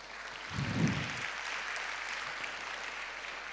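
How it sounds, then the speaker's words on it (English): An audience at a hackathon event applauds the student participants. A brief low thump opens into steady, moderate clapping that carries on evenly. "Can we give them a round of applause?"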